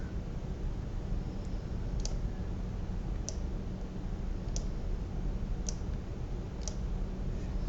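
A computer mouse clicks at slow, irregular intervals while editing a PowerPoint slide, each click short, light and close, over a steady low background hiss with no voices.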